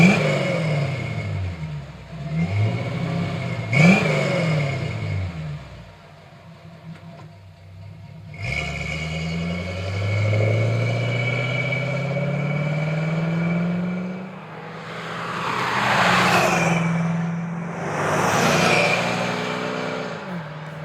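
A 1963-67 Corvette C2 small-block V8 with a Force II crossmember-back exhaust idles with a burbling rumble, then blips and revs repeatedly, rising and falling in pitch, close and alone without speech.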